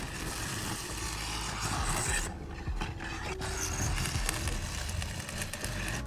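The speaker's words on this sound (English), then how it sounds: "the concrete-like grinding sound whenever I removed the lid or put it back on" A lid scrapes on or off a cardboard prop box with a rough, concrete-like grinding rasp, close and continuous, with a brief quieter gap in the middle.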